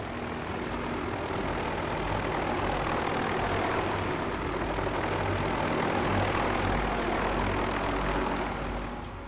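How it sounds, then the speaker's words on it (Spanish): Steady loud aircraft engine drone with a faint propeller-like beat, heard from overhead after two days lost with no visibility; the broadband roar stays continuous and even throughout with no talk. "De pronto oí un helicóptero"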